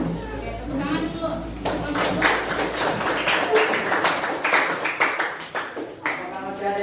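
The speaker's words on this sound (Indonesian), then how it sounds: "Tepuk tangan dulu." A classroom of students claps hands together after a group presentation, uneven clapping starting a moment in and continuing with children's chatter and voices mixed underneath.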